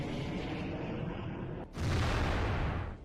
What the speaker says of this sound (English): The rockets perfectly hit both self-propelled guns.